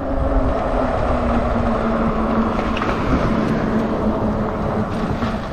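A Kingbull LiteRider 750W folding electric bike rides along with a steady broadband rumble of tyre and wind noise and a faint tonal motor whine running underneath, loud and continuous throughout.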